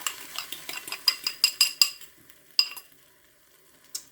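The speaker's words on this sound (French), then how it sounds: "Je touille encore parce que sur les parois du bol, les épices se sont collées." A utensil clinks rhythmically against a bowl while stirring an omelette mixture of peppers with curry and turmeric spices, about a dozen close, bright taps that slow and stop, then two isolated clinks.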